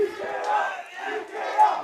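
Spectators at a Poland–Sweden lacrosse game shout and cheer together in a loud, swelling mass of voices that rises and falls without pause.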